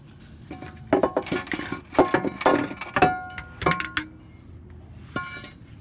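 A metal exhaust manifold is worked loose from a 2019 Dodge Challenger after its bolts are removed, producing a run of sharp, close metallic clinks and knocks in irregular bursts over a quiet background.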